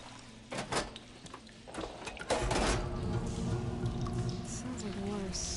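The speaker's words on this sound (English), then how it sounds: "Sounds like the water's switched." Water flow switching over inside leak-free machinery in Horizon Forbidden West: a low rumbling bed, then a sudden broadband gush that settles into a steady, sustained rush of running water.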